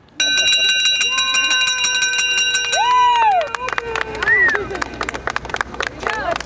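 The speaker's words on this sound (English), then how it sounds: "with the sound of a bell" A loud bell clangs with rich sustained ringing tones, followed by clapping and a bustling crowd outdoors at the Lake Orion Farmers Market.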